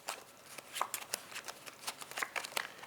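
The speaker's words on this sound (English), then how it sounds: "it looks like I shuffled the cards" A deck of playing cards riffled and cut by hand in a fake shuffle, a quick run of soft, crisp flicks and slaps up close, quiet and alone.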